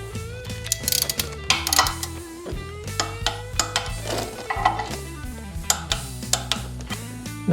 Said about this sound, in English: So these M8 bolts, I'm torquing to 18 foot-pounds, and the M10s I'm torquing to 35